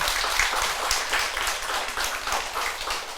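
Applause from a church congregation at an ordination thanksgiving service, a dense, steady patter of many hands clapping together, moderately near and continuous without talk.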